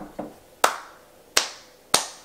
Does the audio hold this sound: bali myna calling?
no